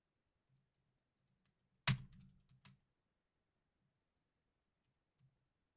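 Brief burst of computer keyboard typing at a desk, a quick cluster of keystrokes lasting under a second, then a few isolated faint clicks in an otherwise quiet room.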